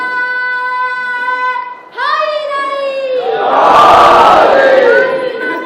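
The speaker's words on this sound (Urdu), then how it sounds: "نعرے حیدری، نعرے سلوات" A Shia majlis congregation answers a cleric with loud, drawn-out unison chanting of Haidari and Salawat slogans, a swelling wall of many voices. Before it, a single voice sings long tonal calls.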